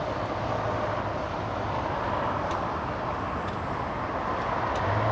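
Boeing 757 airliner from Guatemala City arriving at LAX, a steady broadband jet roar with a low droning hum, loud and continuous throughout without any voices.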